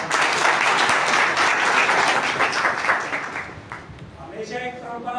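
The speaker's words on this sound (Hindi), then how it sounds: "एक बार फिर तालियां बजा के" Sustained applause from a bar association gathering honoring a chief guest, dense and loud, tapering off toward the end with some voices mixed in.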